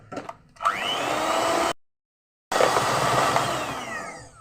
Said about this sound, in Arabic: الاحسن انكم تستعملوا هذا الباتور